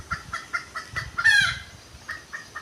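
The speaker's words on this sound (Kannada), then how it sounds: "ಕೋಳಿ ಮತ್ತು ಹುಂಜ ಅದಾವೆ ನೋಡ್ರಿ ಇಲ್ಲಿ" Chickens and a rooster at a zoo in Gadag produce a quick series of close, rhythmic clucks, broken by a short strained crow near the middle, then a few more clucks.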